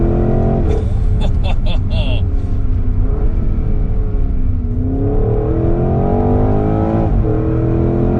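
A 2021 Porsche Cayenne GTS Coupe engine revving hard under acceleration, a loud continuous roar that climbs and shifts pitch, heard from inside the cabin with a voice talking over it.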